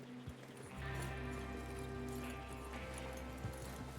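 Horses in the video game Red Dead Redemption 2 moving at a steady clip-clop, hooves thudding rhythmically over a low rumbling background, fairly close and moderately quiet.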